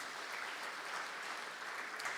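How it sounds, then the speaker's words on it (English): Distant, faint applause from a summit audience for project partners, a dense even wash of clapping lasting about two seconds. "We should give them a round of applause."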